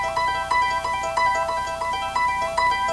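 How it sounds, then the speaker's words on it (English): Harp trill in a dramatic passage, three plucked notes repeated in quick descending cycles with a steady ringing pulse, played alone and close. "I call it a trill, and it sounds like this."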